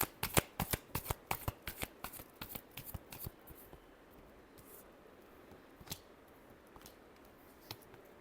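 Tarot cards are riffled and shuffled up close in a rapid run of crisp flutters and snaps for about three seconds, then a few scattered taps and a single softer shuffle follow, quiet and alone.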